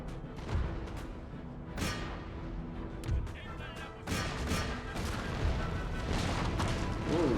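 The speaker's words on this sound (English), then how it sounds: "By the sounds of it, the howitzers are firing long." Battlefield in Empire: Total War with howitzers firing: scattered booms and sharp crashing reports rise out of a steady, noisy rumble of distant cannon and musket fire, loud throughout.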